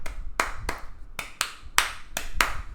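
A series of sharp hand claps in a loose, steady rhythm, about seven in under three seconds, close and fairly crisp.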